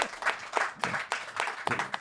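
Applause during a French-language sports podcast taping with the Montreal Alouettes president: several short bursts of clapping from a small group, close and uneven, with brief gaps between the flurries.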